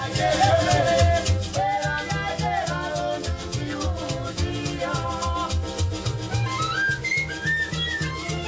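Penny whistle flute music of Malawi, a bright, reedy whistle melody dancing over a steady guitar and bass rhythm, continuous and full throughout.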